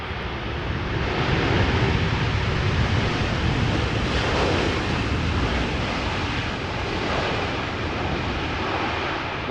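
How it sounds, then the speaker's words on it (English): A Boeing 787-10 Dreamliner touches down at Amsterdam Schiphol, a broad, loud roar of engines and rushing air held steady across the whole stretch with no voices. "It is a Boeing 787-10 Dreamliner arriving from Las Vegas or Las Vegas."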